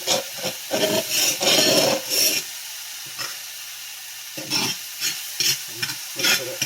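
Alkaline eggs sizzling in a hot pan while being spread and stirred, with bursts of loud frying hiss and scraping strokes that come and go in an uneven rhythm.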